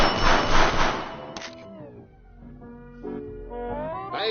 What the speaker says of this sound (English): Repeatedly ringing that bell in a highly irritating fashion.